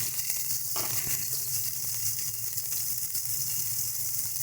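Ginger, garlic and chili paste sizzling in hot oil, a constant bright, close frying hiss with a faint low hum beneath and a soft spatter near the start.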